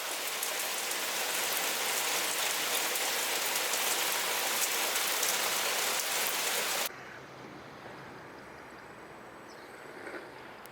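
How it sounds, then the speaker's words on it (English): Steady heavy rain pours outside on a stormy day at an October craft show, a loud dense wash of drops that drops abruptly to a softer patter about two-thirds of the way through, with no talking. "as you can see in here, it's raining."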